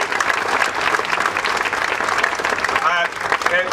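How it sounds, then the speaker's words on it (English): Crowd applause at the opening of the Ohio State Fair, a loud, dense burst of clapping with cheers and a whistle near the end. "give a great round of applause to Virgil."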